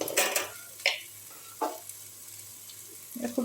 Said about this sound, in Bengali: আমি ঢাকনাটা একবার খুলে দেখি কি হলো।